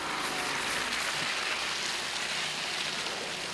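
Steady rain pours down on a muddy, waterlogged road during a diesel Land Rover Defender 110 off-road test drive, a dense, even hiss that holds constant and fairly loud throughout.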